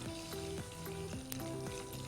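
Curry leaves and green chillies sizzle in hot oil as a tempering for sabzi pulao, a steady frying hiss that continues throughout with a melodic tune playing over it.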